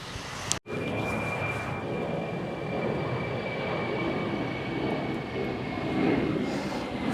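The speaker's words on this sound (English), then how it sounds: "heard that plane behind me" A propeller airplane drones overhead in Stanmore, Sydney, a steady engine roar with a faint whine, preceded by a brief click at the start.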